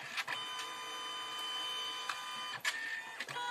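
A photo printer feeds paper and prints a picture, laying down yellow first, with a steady close mechanical whir broken by several sharp clicks and clunks of the print head and feed.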